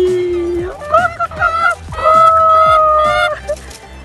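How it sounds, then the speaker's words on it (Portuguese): A chicken on a mountain farm in Italy calls out in several drawn-out, honking vocalizations, close and fairly loud, with short pauses between calls. "Olha só a galinha."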